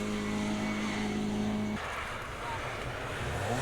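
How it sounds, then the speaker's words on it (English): A hillclimb race car at the Donegal Hillclimb tears past at speed, a loud sustained engine roar with a high steady tone that cuts off abruptly into broadband road and tire noise. "Does Emmett Dunn know that Paddy Bateman is driving his car like this"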